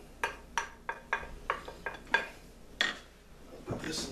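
A spoon scrapes broccoli casserole out of a baking dish in a series of about ten short, distinct scrapes and clinks, irregularly spaced and fairly close.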